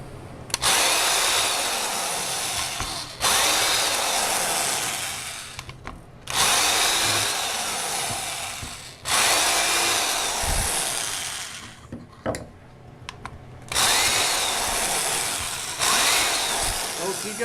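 Power drill bores a 1/8 inch hole in a wooden tripod mount in four long bursts of loud grinding whine, each broken by short pauses with handling clicks, and a voice in the gaps.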